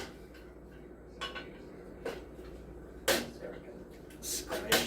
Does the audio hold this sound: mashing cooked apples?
yes